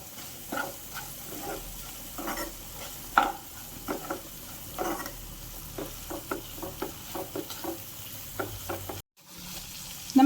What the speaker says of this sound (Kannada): ಇದು ಹೋಳುಗಳಿಗೆ ಸ್ವಲ್ಪ ಉಪ್ಪನ್ನು ಹಾಕ್ಕೊಂಡು ಮತ್ತೆ ಚೆನ್ನಾಗಿ ಇದನ್ನು ಫ್ರೈ ಮಾಡ್ಕೊಳ್ಬೇಕು